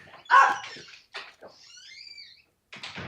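A dog in a home that is also an animal sanctuary gives a few short barks and yips, followed by whimpering, at moderate distance in a quiet room.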